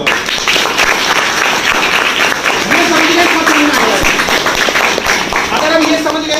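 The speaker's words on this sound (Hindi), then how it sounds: "सारंग जी के लिए एक बार जोरदार ताली बजाओ।" An audience claps together at a business plan presentation, a dense, continuous burst of applause close and loud, with a voice speaking over it.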